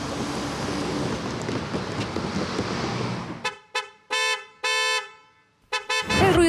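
Street traffic in Santiago, with a steady wash of passing vehicles and wind giving way to a series of loud, close car horn blasts, several short toots and longer held honks in an uneven rhythm.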